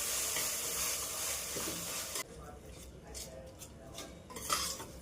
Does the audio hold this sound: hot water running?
no